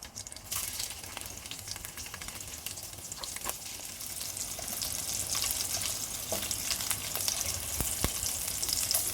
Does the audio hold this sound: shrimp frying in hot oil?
yes